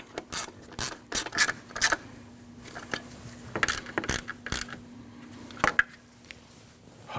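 A hand ratchet clicks in short bursts while tightening the 10 mm alternator mounting bolts on a 2003–2008 Subaru Forester 2.5L H4, close up with pauses between strokes and a faint background hum.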